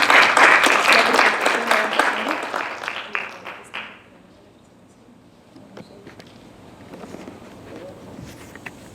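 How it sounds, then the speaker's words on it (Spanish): A university audience claps loudly for an invited guest speaker at a morning event. The applause fades out after about four seconds into a quiet room with faint stray sounds and a few voices. "la recibimos con un aplauso."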